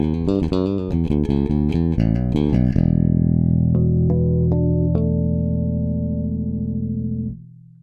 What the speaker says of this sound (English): this is the sound of the bass directly to the sound card.